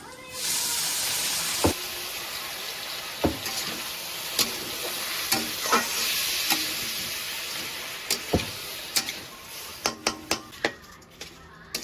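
Washed pulao rice fries in ghee with a steady high sizzle, while a spoon stirs and scrapes the pan in irregular clicks and knocks that grow more frequent toward the end.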